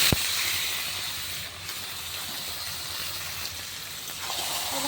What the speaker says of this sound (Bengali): ম্যারিনেট করা মাংসগুলো দিয়ে দেবো পেঁয়াজে।